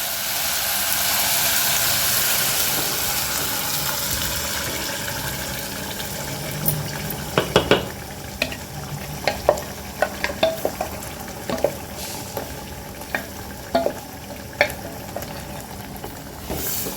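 Ground chutney paste goes into frying lentils in a pan for kudasa chutney, bringing a steady close sizzle with stirring scrapes and spoon clinks that grow denser in the second half.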